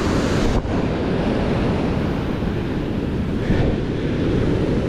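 Ocean waves wash continuously along a beach shore where people fish, with wind buffeting the microphone in a loud, unbroken roar and no talking.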